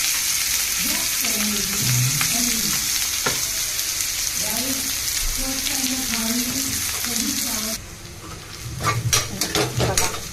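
Garlic and onion fry in hot oil with a steady, loud sizzle, with occasional stirring scrapes and utensil clinks, and a soft voice murmuring underneath for most of the stretch.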